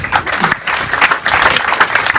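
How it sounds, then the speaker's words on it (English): An audience applauds at a commissioning ceremony for a 3.25 MTPA plant expansion, dense loud clapping that swells and dips briefly before continuing. "We clap for this part."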